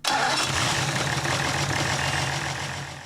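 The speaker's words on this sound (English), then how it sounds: "Start the engine." An Evinrude E-TEC outboard engine cranks and catches, then runs at a steady, loud mid-pitched idle close by for a few seconds, with no voices.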